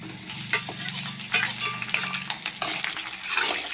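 Onions and green chillies frying in hot oil in a home kitchen pan for spinach rice, a steady close sizzle with scraping stirs and light metallic clinks of a spoon against the pan.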